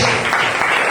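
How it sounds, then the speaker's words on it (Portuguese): A church congregation applauds during a Sunday Pentecostal worship service, a steady, dense wash of clapping from many hands that fills the room continuously without letting up. "Você pode aplaudir o Senhor nessa noite, em nome de Jesus"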